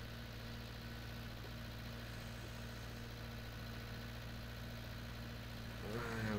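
A 6810 tractor engine idles steadily in Farming Simulator 19 with a low constant hum and a faint mechanical drone, then briefly revs louder at the very end.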